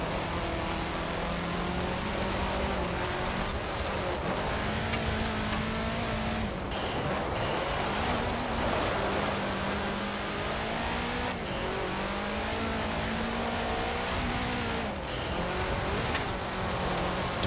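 Subaru WRX race car in Forza Horizon 4, its engine droning steadily and rising and falling through shifts as it races, loud and continuous with a rain-like hiss underneath.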